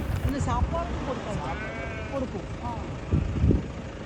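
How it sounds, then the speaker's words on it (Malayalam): Several goats bleating nearby in overlapping, wavering calls, with some low voices and background rumble mixed in. "വീണ്ടും ഒരു ആട്ടിൻകൂട്ടത്തെ കണ്ട് കേട്ടോ"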